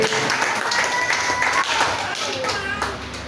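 A church congregation claps and applauds in praise of Jesus Christ, a steady, dense wash of many hands with voices mixed in throughout.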